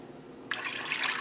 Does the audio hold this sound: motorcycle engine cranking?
no